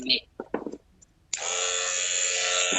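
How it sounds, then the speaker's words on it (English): Close electric hair edger trimmer switching on and buzzing steadily and loudly after a few brief sounds and a short quiet gap. "I would just take and pop my edger on"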